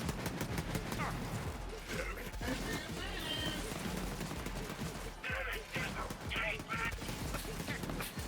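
Gunfire in the shooter Borderlands 3 during a raid boss fight, steady rapid bursts of shots crackling throughout over game music and effects, with someone talking over it.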